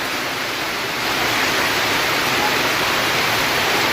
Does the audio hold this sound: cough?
no